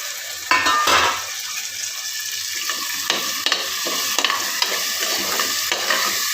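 Paste fries in hot oil in a pan under a continuous close sizzle, with a spoon or spatula scraping and stirring in short repeated strokes, louder bursts at the start and a regular stirring rhythm through the second half.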